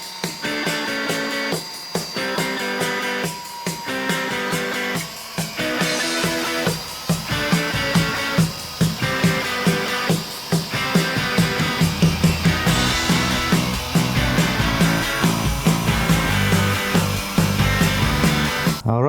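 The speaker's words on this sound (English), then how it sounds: "I have this drill on the medium setting" A power drill spinning a polishing pad for scratch repair whirs steadily with the pad rubbing against a surface, rising in pitch and speed from medium partway through, continuous and close.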